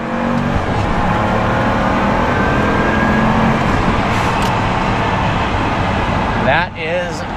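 Twin-turbo 6-liter V12 supercar engine, heard mostly as turbo whoosh and whine rather than exhaust roar, sustained and loud throughout with a brief dip near the end.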